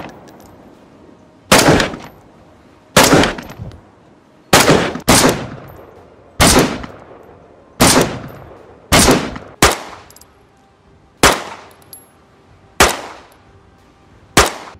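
Weapon gunfire in the DayZ video game: about a dozen loud single shots at irregular intervals, each a sharp crack with a short echoing tail, heard alone with no talk.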